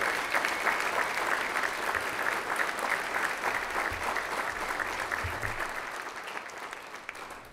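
A crowd at a Kansas State football Ring of Honor ceremony gives sustained, even applause that holds steady and then gradually fades near the end, with no talking over it.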